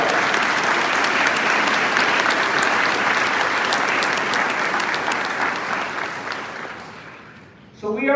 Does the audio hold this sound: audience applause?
yes